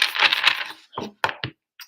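Tarot cards being shuffled during a reading: a steady rustling riffle for most of a second, then a few separate short card flicks and taps with brief silences between, close and fairly loud.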